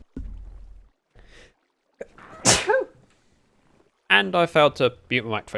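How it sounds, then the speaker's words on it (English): A single sharp human sneeze bursts out close to the microphone during a Minecraft gameplay session, preceded by a faint breath and followed a moment later by someone talking. "give me one moment while I sneeze"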